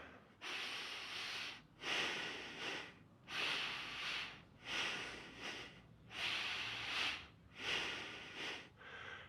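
Paced exercise breathing in a two-steps-in, two-steps-out pattern: seven close, loud breathy bursts repeat in a steady rhythm, each a double-pulsed rush of air separated by short gaps.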